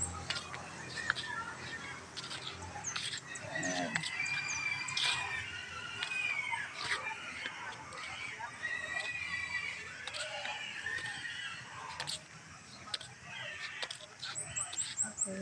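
Chickens cluck and a rooster crows amid a busy rural village soundscape with pigs, scattered bird calls and other animal noises at moderate distance.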